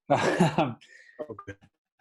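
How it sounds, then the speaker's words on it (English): A single harsh, close cough is followed by a few quieter throat sounds and soft murmurs, then silence. "Excuse the cough."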